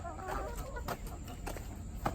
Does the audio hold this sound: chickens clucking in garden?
yes